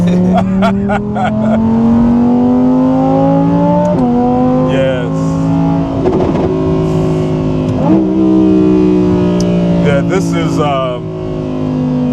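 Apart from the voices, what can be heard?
Audi R8 GT supercar engine wailing while driving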